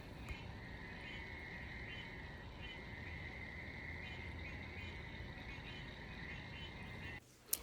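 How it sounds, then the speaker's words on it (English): Chorus of frogs croaking steadily through a garden at night, a dense continuous pulsing layer at fairly loud level with faint insect hiss, cut off abruptly near the end by a brief clatter. "Those frogs are really loud at night"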